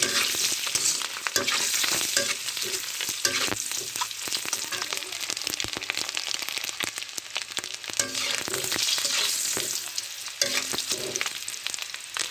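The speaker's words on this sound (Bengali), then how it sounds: "দেখেন ডিমগুলো আমার ভাজা হয়ে গেছে" Eggs frying in hot oil with turmeric, a dense, loud crackling sizzle that runs steadily throughout, with occasional spatula scrapes, heard up close and alone.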